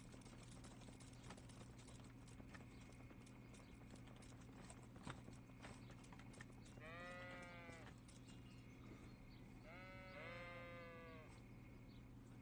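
Sheep bleat twice in the medieval open-world game Kingdom Come Deliverance, each call a wavering, quivering cry against a steady low hum and soft clopping ambience.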